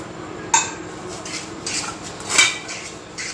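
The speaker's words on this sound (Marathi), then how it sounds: "मला भांड्यामध्ये आधी ना हे खाली तेल लावून घेते मी" A metal cooking pot is greased with oil before steaming dhokla, bringing a few sharp clinks and light scraping of utensil against metal at close range, with no speech.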